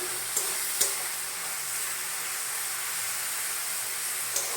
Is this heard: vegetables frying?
yes